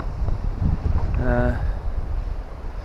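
Wind on a bank of the River Humber during sea fishing buffets the microphone in a constant low roar, with a brief tonal sound rising and fading in the middle.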